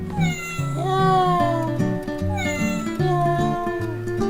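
A toy cat in a family home gives out loud, close electronic meows one after another over a bed of tuneful background music.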